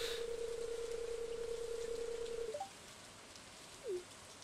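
Steady rain falling in the Stardew Valley video game, a constant soft hiss with a sustained tone that stops partway, after which the rain continues more quietly and a brief chime rises near the end.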